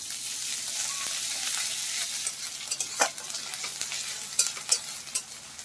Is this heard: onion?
yes